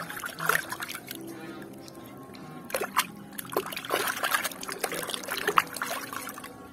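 Running water trickling and splashing as a toy Stegosaurus is washed under it, a close, continuous dribble with scattered splatters and small knocks.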